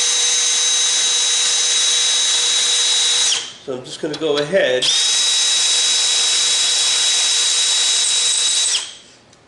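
An electric drill whines steadily at high speed, cuts out briefly while someone speaks, then runs again before winding down.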